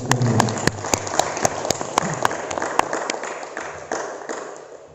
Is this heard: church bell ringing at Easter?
no